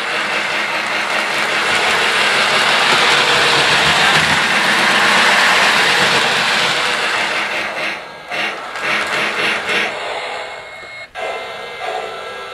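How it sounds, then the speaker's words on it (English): A LionChief model steam train runs in reverse on its track, a steady loud mechanical whir and rattle that fades toward the end into brief clicks and knocks. "Train runs backwards."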